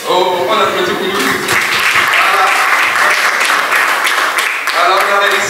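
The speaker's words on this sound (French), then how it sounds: "on applaudit pour nous." Audience applause breaks out at a seminar, loud and dense for several seconds, with a voice speaking at the start and again as the clapping fades.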